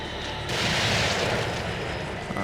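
A grenade explodes in the video game The Evil Within: one sudden loud boom that settles into a rumbling tail, with no voices.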